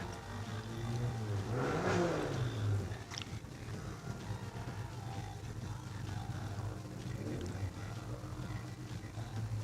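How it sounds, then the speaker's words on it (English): A bright blue Datsun 1200 race car accelerates hard up a hillclimb course, its engine rising and falling at a distance through a steady, moderately loud drone. "Jeff Varden's Datsun 1200 is pushing hard up there now. The bright blue Datsun."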